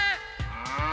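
A cartoon cow in the Chuggington animated series lets out a long, tonal moo with throaty low pulses, loud and close.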